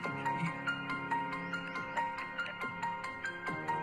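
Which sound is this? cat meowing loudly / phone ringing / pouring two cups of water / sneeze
phone ringing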